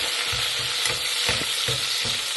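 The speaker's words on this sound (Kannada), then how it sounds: "ಈರುಳ್ಳಿ ಸ್ವಲ್ಪ ಫ್ರೈ ಆಗಲಿ" Onions fry in a pan with mustard seeds and cumin, a continuous bright sizzle punctuated by rhythmic scraping strokes of stirring, close and loud, with no talk.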